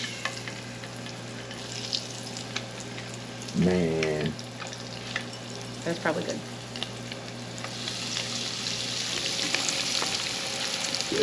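A small pinch of blackbelly rosefish drops into hot oil and crackles in a steady sizzle, with a louder burst as it goes in and brief talk nearby.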